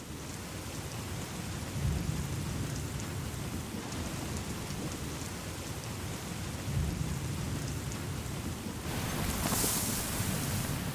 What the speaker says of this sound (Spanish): La tormenta se acerca a su fin.